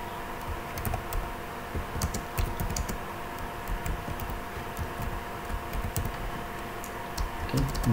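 Keys clack on a computer keyboard as a router configuration command is entered, a run of quick, irregular, close taps with short pauses between bursts.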